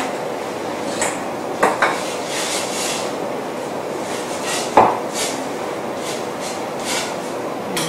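Scraping and clinking of a utensil against a pot of tom kha gai, with a few sharper knocks among steady rubbing, close by and without talk.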